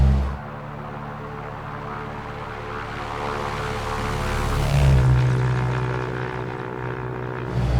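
A Cessna 172 piston propeller engine in the X-Plane 11 flight simulator drones steadily and loudly throughout, swelling slightly toward the middle before settling, with no voices.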